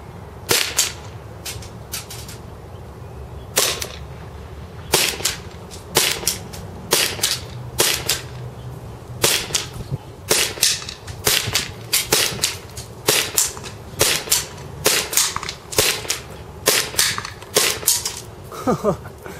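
A KWA CZ75 airsoft pistol firing BBs at a target 100 feet away, with sharp, close snapping shots that come singly and in quick pairs at irregular intervals over a low background hum.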